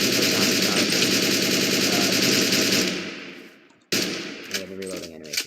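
A MAC-10 from the Techguns Minecraft mod fires a sustained rapid automatic burst, loud and dense, then cuts off, followed by a brief mechanical reload clatter.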